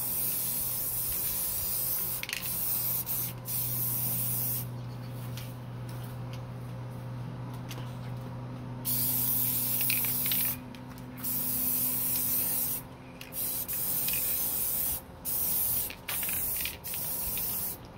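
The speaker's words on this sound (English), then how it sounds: "get started covering up the shells nice and good with a nice even coat of our spray paint" Orange spray paint hisses from an aerosol can onto shells inside a box, in repeated bursts of varying length broken by short pauses, near and fairly loud.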